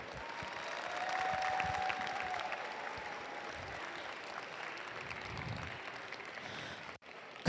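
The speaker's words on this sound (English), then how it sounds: "Let's hear with a big round of applause for all the teams competing today." Applause from the crowd at an FTC robotics tournament qualifier for the competing teams, sustained and fairly distant, swelling slightly and then tapering, with no talk over it.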